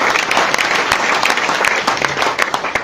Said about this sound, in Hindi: इन सभी अचीव्स के लिए एक बार जोरदार तालियां